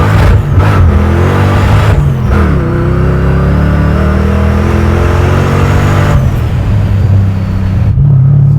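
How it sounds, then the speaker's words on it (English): A 700 WHP supercharged SVT Mustang Cobra roars through hard acceleration during burnouts, loud and close, its engine note sweeping upward in pitch across several gear pulls before settling back to a heavy rumble. "It's just really intense acceleration."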